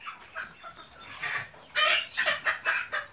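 Chickens cluck in a farm pen, a run of close, sharp clucks and squawks that get louder and more insistent in the second half, with no talking.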